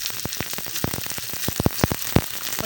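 Chicken sautéing in a pan for tinulang manok gives a steady close sizzle of frying, broken by sharp crackles and pops that come in irregular bursts.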